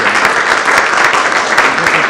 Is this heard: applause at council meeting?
yes